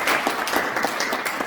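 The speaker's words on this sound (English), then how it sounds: "Big round of applause for him as" An audience at a storytelling competition applauds, producing dense, steady clapping from many hands that stays loud and even throughout.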